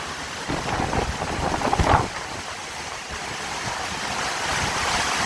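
Strong, steady wind of Hurricane Ida roaring in Houma, Louisiana, a loud continuous rush with a sharper gust near the start and heavy microphone buffeting throughout.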